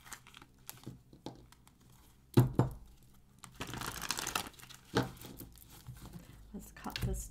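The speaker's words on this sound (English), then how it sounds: "So let me just get here a few more shuffles." Tarot cards are shuffled with papery riffles, taps and a longer fluttering burst, close and fairly soft, with a few quiet pauses between.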